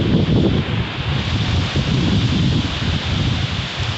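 A strong gust of storm wind roars through trees, loud and continuous, with rushing leaves and a broad rumbling wash and no voices, during a September wind storm.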